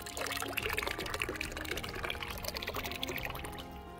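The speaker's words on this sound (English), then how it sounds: "Generously fill a bucket or tub with water." Water pours steadily into a storage container tub being filled for paper pulp making, a continuous close, loud splashing gush with no voices.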